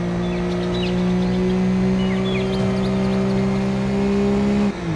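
A heavy BMW's engine in the racing game Need For Speed 4 hums in a steady, loud, sustained drone at near-constant revs, with no talk over it.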